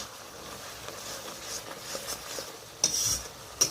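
Ground chili, cumin, coriander and Kashmiri red chili powder cooking down with a little water in a pan, a soft low stirring and scraping broken by two sharp metallic clinks near the end.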